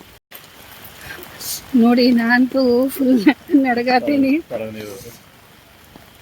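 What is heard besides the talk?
heavy rain falling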